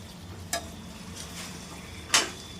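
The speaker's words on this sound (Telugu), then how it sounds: "ఇది మొత్తము చికెన్ వేసిన తర్వాత టమాటోస్ గ్రేవీ మొత్తం దీనికి మిక్స్ అయ్యేలాగా బాగా కలుపుకోవాలి" Chicken in tomato gravy sizzles faintly in a pan while a utensil stirs it, with two sharp scraping clicks against the pan over a soft, steady fry.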